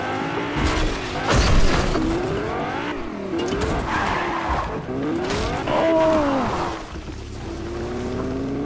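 A car drives in Fortnite Battle Royale: a loud, steady engine drone with repeated squealing tire skids and revving pitch swoops as it swerves, continuous across the whole stretch.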